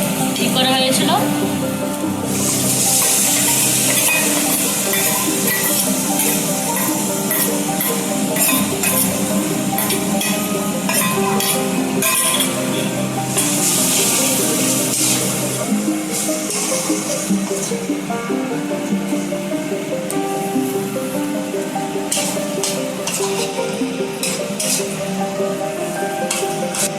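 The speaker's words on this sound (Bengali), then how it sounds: "ভালো করে ফ্রাই করে নেবেন মশলাটা দিয়ে।" Chicken fries in a pan with kala masala for a spicy Maharashtrian curry, giving a steady close sizzle broken by clinks and scrapes of stirring, while a person talks throughout.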